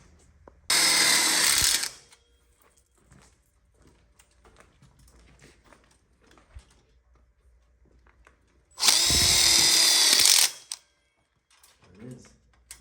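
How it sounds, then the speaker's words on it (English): A power drill drives screws into a tube on a DIY outdoor kitchen diagonal corner module frame, in two loud, close bursts of whirring about a second or two long, separated by quiet handling noises. "We go ahead and put our screws on each side of the one-way and a screw from below into this tube"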